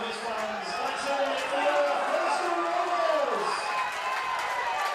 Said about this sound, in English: The crowd trying to get them home here.